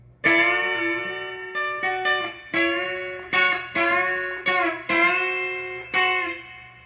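An electric guitar plays a descending lick worked by the pinky, about a dozen picked notes in an uneven phrase, each attack bright and ringing into the next, close and alone with a touch of effect.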